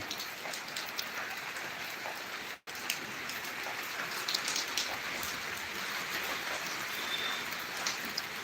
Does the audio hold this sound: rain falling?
yes